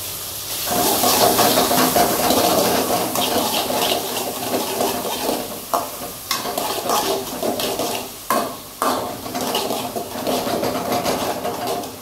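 Onions fry in a hot pan for road-side style chicken egg noodles. The steady, loud sizzle is broken by sharp clacks and scrapes as the onions are stirred.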